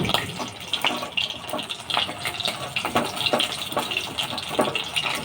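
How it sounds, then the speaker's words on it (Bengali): Semolina and flour fritters with black cumin fry in hot oil, giving a continuous close sizzle dotted with sharp crackles and pops. "চাল না ভিজিয়ে সুজি ময়দা দিয়ে ভাজছি বড়াগুলো"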